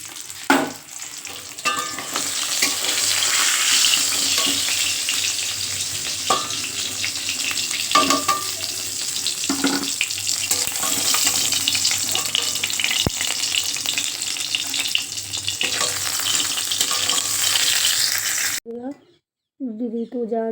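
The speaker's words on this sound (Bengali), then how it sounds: "মাছ ভাজছি" Fish sizzles steadily in a frying pan in a home kitchen, a loud continuous crackle with occasional stirring scrapes, then it cuts off abruptly near the end.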